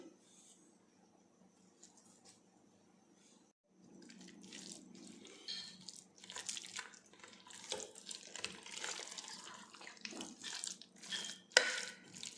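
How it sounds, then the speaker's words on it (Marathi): Water pouring and splashing into a bowl of bhajji vegetable batter for Karnataka-style fritters, soft at first, then a louder running, trickling stream close by. "ह्याच्यात थोडं पाणी घालून कन्सिस्टन्सी मी ॲडजस्ट केली आहे"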